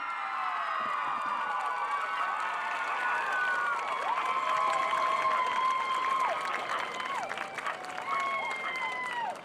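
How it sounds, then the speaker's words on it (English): A high school homecoming crowd at a 2021 Coosa High School football game cheers, claps and whistles steadily and loudly for the newly crowned homecoming queen, with scattered shouts over a continuous roar. "all the crowd, like everybody stood up and cheered for her"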